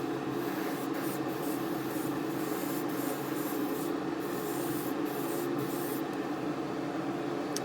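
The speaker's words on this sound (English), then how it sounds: "It's a lovely airbrush to use." Airbrush spraying acrylic paint onto a 1:144 HP Victor K.2 model aircraft, a steady soft hiss of air held at an even level throughout, close by, with faint brief interruptions and no speech.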